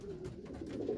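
Racing pigeons cooing in a loft, a low throaty warbling coo that repeats continuously and close by, with no talking.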